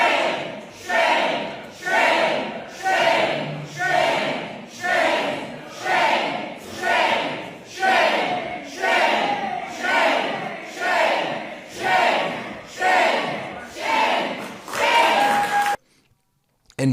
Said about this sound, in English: She's getting drowned out by boos.